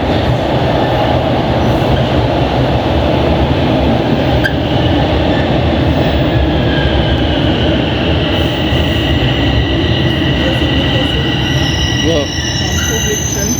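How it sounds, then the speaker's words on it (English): A Toronto subway train arrives at a station with a heavy steady rumble and high wheel squeal building toward the end, loud and close throughout. "You hear that heavy sound? That's a train coming"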